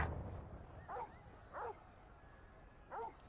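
Torgal, a dog in the game Final Fantasy XVI, gives three short separate barks or yips, each brief and moderately loud, with pauses between them over a low rumbling game background.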